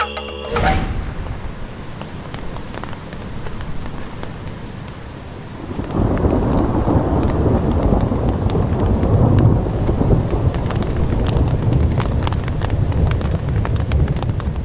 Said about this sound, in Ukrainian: Ця гроза нам не давала спати усю ніч.